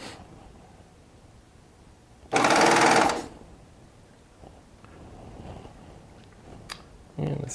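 Baby Lock Triumph serger sewing with decorative thread in the upper looper, one short burst of fast mechanical stitching about a second long, surrounded by quiet handling clicks.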